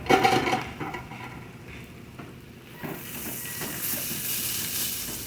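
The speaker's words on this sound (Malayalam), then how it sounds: "അപ്പോൾ അത് സവാളയൊക്കെ വഴറ്റി വന്നിട്ടുണ്ട്" Onions sautéing in a pan for chicken curry, a steady sizzle and hiss that fades briefly mid-way and then swells back brighter and louder, with a few soft stirring knocks.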